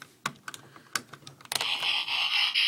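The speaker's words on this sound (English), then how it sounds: "This gun, flipping this gun out makes a transformation noise, as you can hear." A Transformers Bumblebee toy gun (Battle Ops) flips out, a few light plastic clicks followed by a loud, sustained electronic transformation sound effect from the toy, heard up close with no talking.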